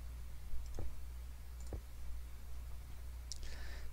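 Minecraft mob farm building: a few faint, sharp game clicks spaced about a second apart over a low steady hum, with a brighter click near the end.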